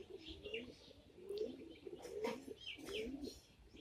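Fulshira giribaz pigeons cooing at a bird market, a few soft throaty coos repeating at a relaxed pace, faint, with light chirps and bustle in the background.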